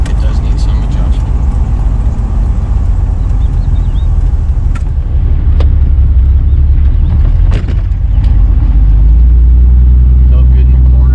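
A Jeep Wrangler with a newly replaced steering shaft is driven on the road, with a steady, loud engine and road rumble running throughout and a few brief knocks.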